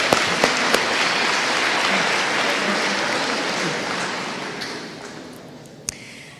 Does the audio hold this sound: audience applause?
yes